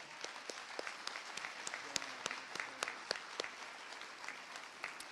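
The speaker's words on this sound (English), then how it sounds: "Let's give these people a big round of applause." Sparse, distinct claps ring out from a graduation audience, individual hand strikes spaced unevenly over a quiet background, fairly faint and somewhat distant.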